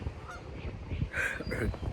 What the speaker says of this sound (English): I think it's a geese